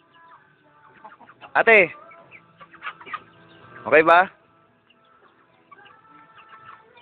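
A flock of chickens clucks loudly and close at feeding time in a yard, with two prominent squawking bursts over softer clucking, while people talk briefly.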